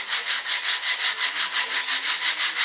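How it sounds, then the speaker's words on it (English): Rhythmic back-and-forth sanding of a wooden part for an RC F-105 Thunderchief jet model, tack-glued to a board, with about a dozen even, close, loud rasping strokes. "give it a little sanding"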